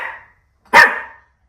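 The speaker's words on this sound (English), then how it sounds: "She's still barking that direction." A dog gives a short muffled woof, then one sharp, loud bark close by, with silence around them.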